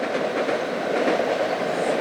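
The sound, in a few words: train passing by the River Thames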